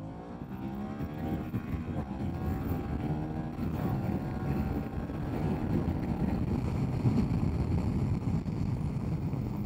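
A Harley-Davidson cruiser motorcycle accelerates hard under full throttle from second gear on a demo-day ride, a steady loud engine roar building gradually, heavily buffeted by wind noise on the microphone.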